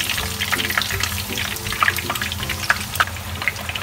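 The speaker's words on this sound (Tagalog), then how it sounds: "Basta dire-diretso nyo lang po yung pagbuhos po ng mainit na mantika sa ibabaw." Hot oil poured over stuffed tofu sets off a steady, close, crackling sizzle with bright popping bubbles throughout.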